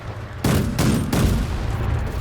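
Gunfire and explosions in a World War 3 shooter game, heard as loud, dense bursts of rapid shots in close succession, forceful and continuous after a sudden onset, with no talk.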